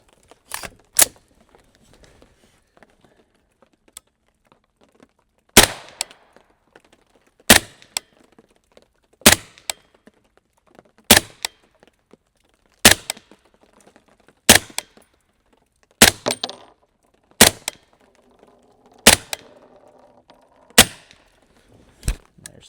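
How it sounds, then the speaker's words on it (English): Sig Sauer MCX Rattler rifle firing a group of about ten sharp, loud shots, spaced unevenly a second or two apart, each a crisp crack standing alone against a quiet background. "let's go ahead and fire the first group with the Rattler."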